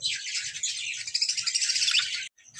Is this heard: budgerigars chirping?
yes